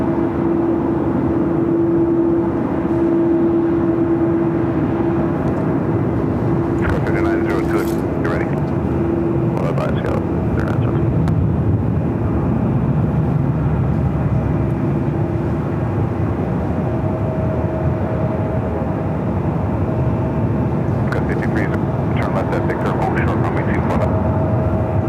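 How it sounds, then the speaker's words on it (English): An Aeromexico Boeing 787-8 Dreamliner jet at Los Angeles LAX, bound for Mexico City, makes a steady, loud engine drone with a sustained tonal whine, while indistinct voices and intermittent clicks sound over it. "This is a 787-8 Dreamliner, Air Mexico, heading back to Mexico City."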